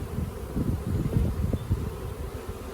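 A swarm of honey bees buzzes at an apiary, a dense, steady low drone that fills the air up close, with no voices.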